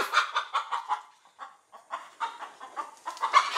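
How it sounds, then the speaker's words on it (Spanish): A chicken clucks in a rapid run of short, bright calls, pausing briefly midway before the clucking resumes, fairly close and clear. "Los perros sacaron una gallina del nido."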